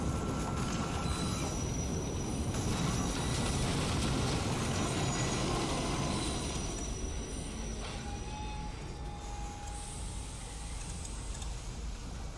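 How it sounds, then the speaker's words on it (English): Train in Assassin's Creed Unity rumbles past with a dense, continuous roar of wheels and carriages, loud and close, with faint squeals on top and no talk. "We are not outrunning a train, I'm sorry."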